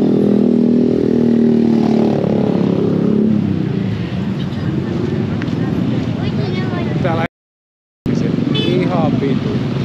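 Night traffic around Bundaran HI in Jakarta, with engines roaring close by and motorbikes and cars speeding past one after another in a loud, continuous rush.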